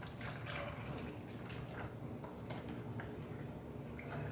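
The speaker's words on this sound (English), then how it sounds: "I guess just pour it on top and let it run in." Liquid hand casting mix from a Luna Bean hand sculpture kit pours into a container, a faint, continuous watery trickle and splash with no talk.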